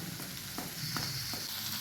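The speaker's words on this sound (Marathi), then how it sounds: "आता आपण 1-2 मिनिटं परतून देऊया" Cluster beans (gavar) sauté in a hot pan with a continuous sizzle and frying crackle, broken by a few short stirring scrapes, close and steady with no talk.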